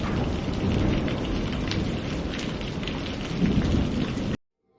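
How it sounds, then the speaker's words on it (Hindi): Heavy rain pours steadily through a stormy night with rumbling thunder rolling underneath, loud and continuous before cutting off abruptly near the end. "ये कहानी शुरू हुई एक बरसाती रात से।"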